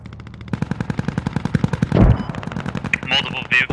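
Mortar salvo and gunfire in the military shooter Squad: a fast, steady string of loud gunshots runs throughout, joined near the middle by a heavier boom and rumbling explosions, with sharp bursts near the end.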